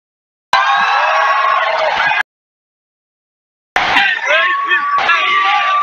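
An esports arena crowd at a Dota 2 tournament match cheers and screams loudly in two bursts separated by a brief silence, a dense roar of many voices with whoops.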